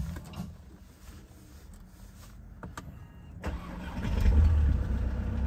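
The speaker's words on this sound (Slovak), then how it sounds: "Takže pozrieme sa na to, ako to naštartuje." A snow-covered VW Passat 2.0 BiTDI diesel is started on a cold day: clicks and faint whirring mechanisms, then the starter cranks and the engine catches into a loud, rough low rumble that keeps running.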